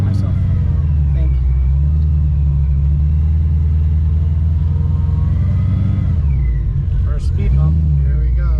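A 2014 Shelby GT500 with a Magnaflow Street series exhaust drives along with a loud, deep, steady engine rumble inside the car that rises briefly near the end, while a person talks over it.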